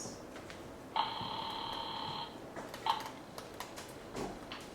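A telephone rings once in a long electronic trill, then a short chirp follows amid faint clicks and low background hiss.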